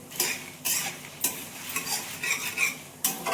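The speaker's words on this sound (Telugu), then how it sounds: "మాడకుండా సిమ్లో పెట్టుకొని వేయించుకోవాలి." Gongura leaves frying in a pan over low heat, with a steady close sizzle broken by five or six sharp scraping stirs of a utensil against the metal.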